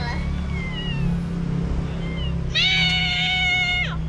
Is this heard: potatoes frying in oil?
no